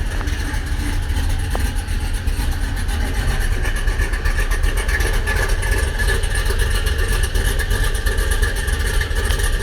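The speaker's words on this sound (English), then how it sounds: "the rattling you hear is from her stock exhaust system," Stock exhaust system on a 2005 Chevrolet Tahoe, rattling over a steady idling engine rumble that holds close and loud for the whole stretch, with no talk.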